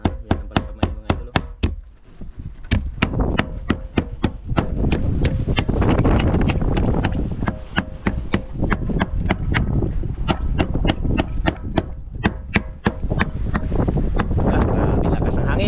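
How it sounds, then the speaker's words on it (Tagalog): Strong wind roars across the microphone outdoors, a loud, steady, rumbling rush that swells and buffets throughout, punctuated by a long series of sharp, evenly spaced knocks. "Grabe lakas ng hangin."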